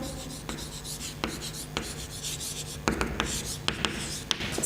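Pen or chalk scratching out mineral names during a chemistry lesson, a close, steady scraping with sharp taps where strokes begin, rubbing on over a low room hum.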